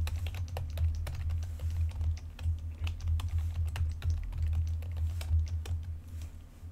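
Steady typing of a password on a computer keyboard, with quick irregular key clicks running throughout, close and fairly quiet over a low background hum.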